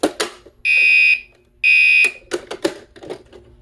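An older-style Gentex Commander 3 fire alarm horn blasts twice in loud, harsh bursts of about a second and a half each, with clicks and knocks around them in a small test setup.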